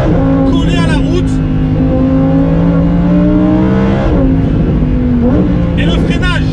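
A Lamborghini engine revs loud and steady over a continuous rasping exhaust drone, pitch climbing and dropping between gear changes, with brief crackles near the start and end; someone talks over it throughout.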